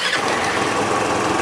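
Motorcycle engine with a reworked fuel injection system, fuel increased 41 percent, running steadily and loud right after starting, a dense continuous roar with no pauses.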